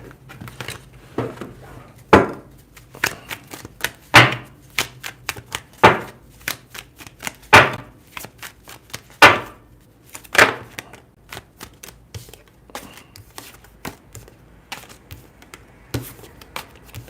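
Tarot cards are shuffled and tapped in a brisk, uneven rhythm of crisp snaps and soft thumps, close by, with no talking.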